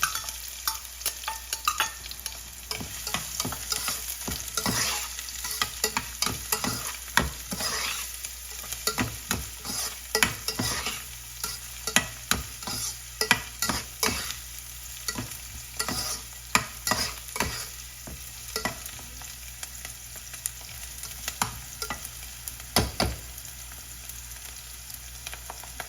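Finely chopped onion frying in hot oil for roti bhel, a steady sizzle with repeated scraping clicks of a spoon stirring the pan throughout, close and continuous with no talk.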